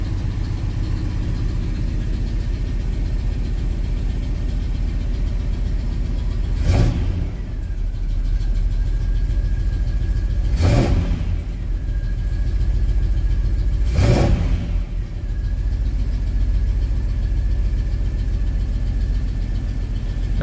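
A 1968 Oldsmobile 442 V8 idles after a cold start, a loud, steady, rumbling low note that swells into three brief blips of the throttle, heard up close.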